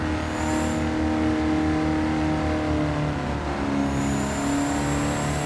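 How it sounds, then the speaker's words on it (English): A Mercedes Unimog truck's turbo engine revs hard in Gran Turismo 7, a loud, sustained layered drone with shifting pitch and a high turbo whine at the start and end. "Holy turbo noise. This thing is very loud."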